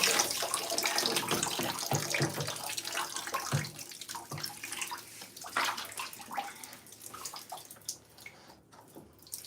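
Water runs from a tap into a sink or basin while hair is wetted for product application, a continuous close splashing flow that fluctuates and thins toward the end, with no talk.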